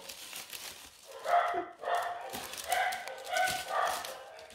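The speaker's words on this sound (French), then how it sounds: "Encore des chiens qui sont pas contents." Dogs barking and yelping in repeated bursts nearby, apparently reacting to an angle grinder, with a steady background noise running throughout.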